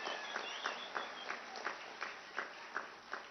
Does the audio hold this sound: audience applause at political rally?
yes